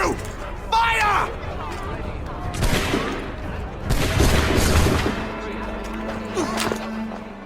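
Musket volley fired on command in Assassin's Creed 3, a ragged burst of overlapping shots around the middle of the scene, mixed with shouted voices and crowd babble before and after.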